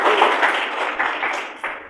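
A church congregation claps their hands together in worship, a dense, steady wash of many hands close by that fills the whole two seconds, with a few louder bursts standing out.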